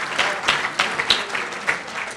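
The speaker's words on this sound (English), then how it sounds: "Oh, there's the applause." Scattered hand clapping from a luncheon audience, a few people applauding unevenly in a room for a couple of seconds, moderately close.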